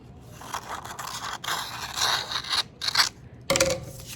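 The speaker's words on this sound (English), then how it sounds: "You're gonna cut off your strip." Scissors cut off a paper strip while folding a deconstructed paper snowflake, giving a few close, quiet scraping snips in short bursts with brief pauses between them.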